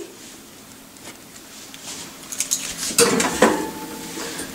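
Metal clatter as a tray of marinated chicken is slid onto the middle rack of a preheated oven, a few sharp clanks and scrapes building toward the end, close and fairly loud.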